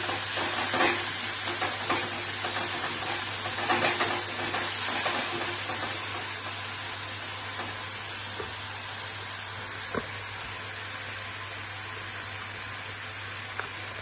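Cashew and almond paste goes into a frying pan with white cumin, giving a soft steady sizzle with scraping stir strokes early on that fade to a quieter hiss, plus a low constant background hum.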